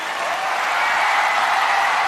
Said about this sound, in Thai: เสียงปรบมือกับทั้งสี่ท่าน